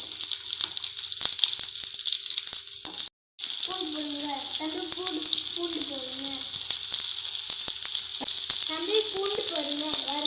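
Hot oil sizzles and crackles steadily in a pan for a vegetable kuzhambu, a continuous close hiss with a brief silent gap partway, while someone talks over it.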